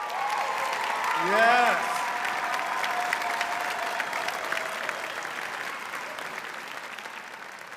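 An audience applauds student performers at an honors evening, sustained dense clapping with a brief whoop or cheer early on, while a voice speaks a word over it.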